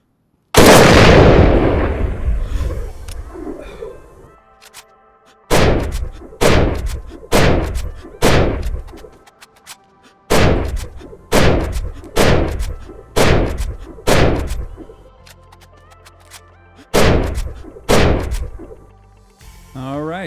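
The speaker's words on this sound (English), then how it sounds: "All right, 12 rounds with the ASW 338." An ASW 338 bolt-action rifle chambered in .338 Lapua fires in a video game: a big opening blast with a long echoing tail, then about a dozen loud, evenly spaced booming shots in small groups, separated by short pauses.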